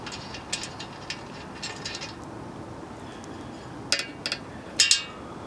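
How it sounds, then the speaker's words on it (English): A ratchet working on the top blanking plug of a SAAB 9-3 air conditioning system, with faint clinks at first, then louder bursts of quick pawl clicking close by over a steady background hiss. "Here I'm taking off the top blanking plug."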